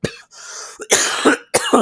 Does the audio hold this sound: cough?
yes